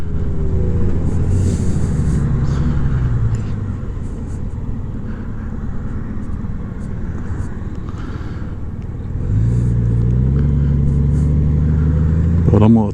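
A car pulls out onto a road at night, heard from a moving Honda Goldwing motorcycle as loud steady engine drone with rising rev sweeps at the start and end, under wind rumble.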